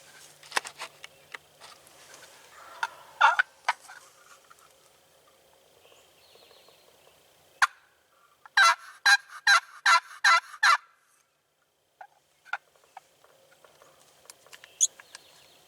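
A wild turkey gobbles during a Wisconsin spring hunt. Scattered calls and clucks come first, then a loud burst of about six rapid, rhythmic gobbles that carry clearly over a quiet outdoor background.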